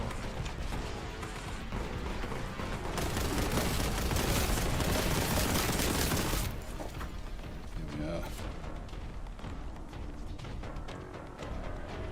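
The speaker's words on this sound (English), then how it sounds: "somebody else is firing at me" Gunfire in a Warhammer video game, a loud dense barrage of rapid shots and blasts rolling continuously for several seconds before easing into a quieter rumble with a few scattered reports.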